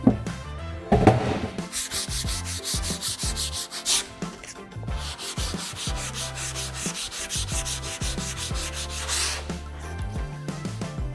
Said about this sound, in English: I somehow can't keep the sanding going in a straight line.